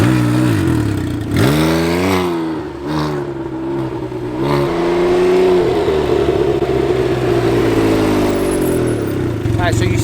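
A Can-Am Ryker three-wheeled motorcycle engine drones and rises in pitch while riding, loud and steady throughout, with some wind rush.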